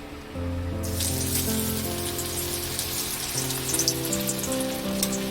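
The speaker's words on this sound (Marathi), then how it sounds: "आपल्याला तापलेल्या तेलामध्ये आता मच्छी फ्राय करायची आहे" Marinated fish pieces are lowered one at a time into hot oil over a slow flame, setting off a sudden close, dense hiss of frying that holds steady, with a low hum beneath it.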